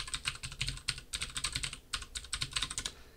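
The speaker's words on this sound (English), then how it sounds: "And now you're going to type the new password that you want to use." Someone types a new password on a computer keyboard, a quick run of close key clicks in short bursts with brief pauses between them.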